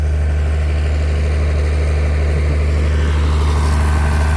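A tractor and a small farm diesel engine drive water pumps that are draining a site, giving a loud, steady, close droning hum with deep engine pulsing throughout and no voices.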